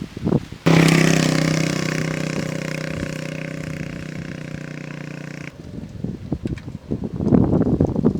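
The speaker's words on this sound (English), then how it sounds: "As you see, the man riding a bike." A man rides a motorbike past along a village road in Africa; the engine roars in loudly and close, holds a steady drone for about five seconds, then cuts away to quieter wind and rustling outdoor noise.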